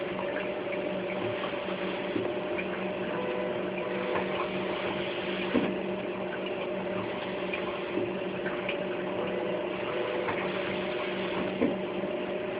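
A dialysis machine pump runs steadily while priming the dialyzer for hemodialysis, giving a faint continuous mechanical hum with a light liquid churn and a few soft clicks.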